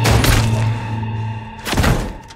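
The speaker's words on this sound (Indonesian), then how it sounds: "Ternyata itu adalah tembakan dari Billy" Gunshot in an action film fight scene, two heavy booming blasts about a second and a half apart, loud and close, with a low rumble between them and no talking.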